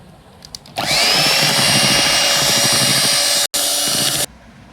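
An electric mixer starts up and beats rainbow cake batter with a loud, steady high-pitched whir, cutting out for a moment before resuming briefly, then switching off.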